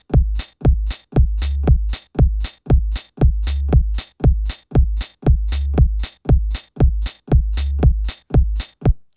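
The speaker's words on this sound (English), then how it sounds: "Let's hear our bass with our kick and cymbals." Bass, kick drum and cymbals play alone: a steady, punchy four-on-the-floor beat with deep booming kicks and a bass line locked to them, bright cymbal hits riding evenly on every pulse.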